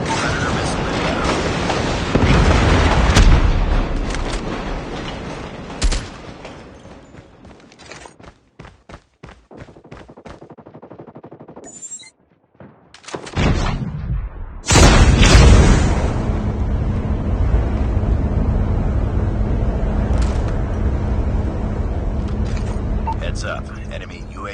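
Predator missile strike in Call of Duty gameplay: heavy booming blasts with a sharp burst of crackling impacts midway, then a loud sustained rumble, amid continuous game noise and intermittent voice.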